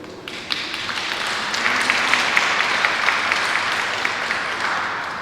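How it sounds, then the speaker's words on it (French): Church congregation applauding during a Mass at Saint Sixte II church in Pérols, a moderate, steady patter of clapping that swells after a second and sustains evenly, slightly distant in a reverberant room. "On peut aussi l'applaudir."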